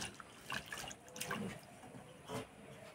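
Flattened rice (chira) being washed by hand in a bowl of water in a home kitchen, with soft sloshing and splashing bursts and quiet trickling, faint and close.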